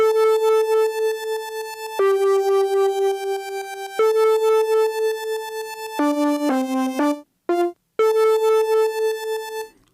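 Layered synth leads in Ableton, a metallic lead from Retro Machines with tremolo doubled an octave lower under a brighter layer, playing sustained bright harmonic-rich notes that change pitch every two seconds, with a quick run of short stabs and brief gaps near the end.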